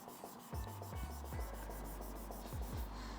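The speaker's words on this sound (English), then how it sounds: "You can just sort of rub into the grain like this." A wet cloth rubs silicone caulk into wood grain in repeated close, rhythmic strokes, each a short scraping swish, in a quiet room with no talking.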